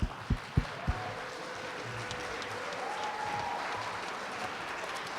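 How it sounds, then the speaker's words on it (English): Audience at an entrepreneur leadership event applauding student presenters, beginning with a few sharp distinct claps before settling into soft, distant, sustained clapping. "Let's give everyone a round of applause"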